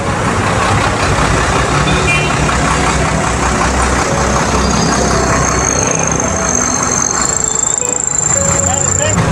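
A garbage truck's engine idles loudly and steadily on a street, a continuous rumble with faint higher tones on top, heard close up throughout.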